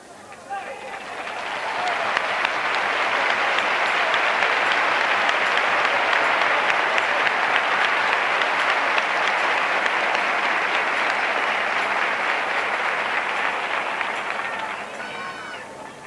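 A large crowd at a Rocío pilgrimage brotherhood gathering breaks into applause, swelling in over the first couple of seconds, holding as a loud dense roar of clapping, then tapering away near the end.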